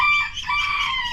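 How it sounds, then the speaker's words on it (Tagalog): Chickens cluck up close in a short, bright burst of overlapping calls. "lahat ng mga manok maglalapit sa atin"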